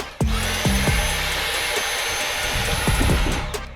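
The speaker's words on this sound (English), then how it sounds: "Stink bugs. Vacuum them up." A vacuum cleaner runs steadily at close range, sucking up stink bugs, with a sustained high whine and several sharp knocks and clatters as the nozzle bumps surfaces and catches the insects.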